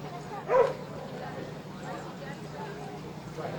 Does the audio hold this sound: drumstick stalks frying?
no